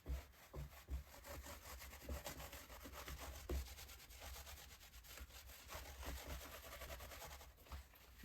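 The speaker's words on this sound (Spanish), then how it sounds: "Y ahora lo vamos a limpiar con un paño seco" A dry cloth made from an old sock rubs steadily across a grouted tile mosaic, giving a continuous close scrubbing and scraping texture with soft irregular strokes and no voices.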